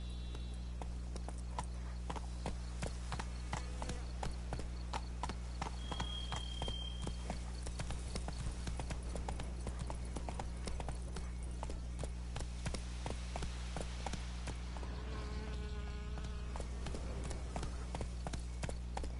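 Roach the horse galloping in The Witcher 3, a steady rapid clip-clop of hooves running on and on under a constant low game music drone, with no talk.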